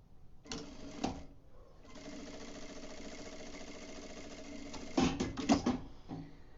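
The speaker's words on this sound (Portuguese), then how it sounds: "E vou passar a costura." Sewing machine stitching the seam of a flower-shaped placemat, a steady mechanical whir of rapid stitches running in several bursts with brief pauses and a few clunks near the end.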